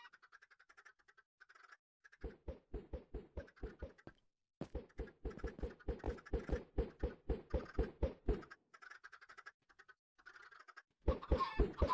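A flock of chickens in Minecraft, heard as a steady run of rapid, evenly spaced clucks and squawks, fairly faint and grouped in bursts with brief pauses, and no talking over them.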